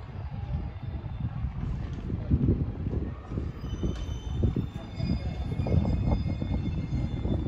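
A limited express Kaiji train rumbles into Hachioji station platform along the tracks, low heavy rolling noise with faint wheel squeals and hum, steady and fairly close.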